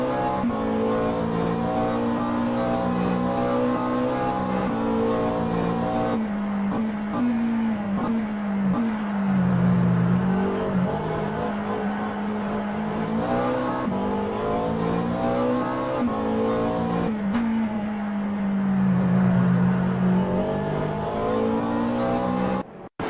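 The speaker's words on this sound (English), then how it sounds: "Let's ride with Stephen Miller in the number 424 McLaren 720S Evo." A McLaren 720S Evo race car engine at Laguna Seca in a sim racing game, loud and continuous, revving up and down through gear changes with shifts and throttle lifts across the lap and no talking.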